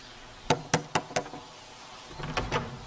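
A door is knocked on with four sharp, evenly spaced raps, followed after a pause by a softer, quicker flurry of knocks, with no talk.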